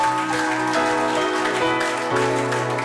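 A church congregation claps together in a steady, dense patter that runs throughout, mixed with sustained music playing underneath.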